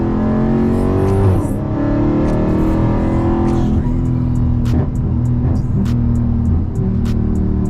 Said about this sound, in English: you can hear it a little bit, but it's all mostly still just pure exhaust